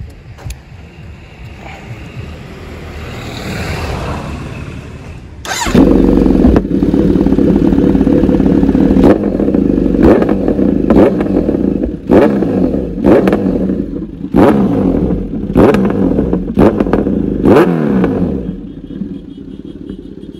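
Goblin motorcycle engine recorded during a ride, loud and steady, with a quieter opening stretch before a sudden jump in level and repeated sharp revs through the rest.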